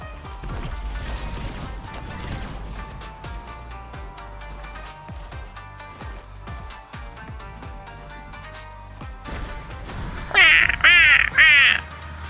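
Birds thrown at players as a weapon in Fortnite Chapter 6 Season 3, with several sharp quacking and squawking bird calls near the end over continuous game effects, clatter and impacts.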